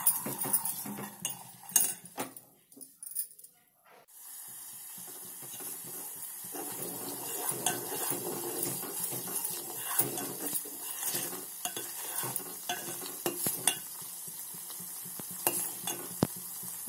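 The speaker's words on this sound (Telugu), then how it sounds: "అడుగు అంటకుండా ఉండడానికి ఇలా కలిపుకుంటూ ఉండాలి" A spoon scrapes and stirs cream into melting ghee in a pot, with metallic clinks and soft bubbling. Sharp knocks sound early, then a steady sizzling stir runs on at moderate level.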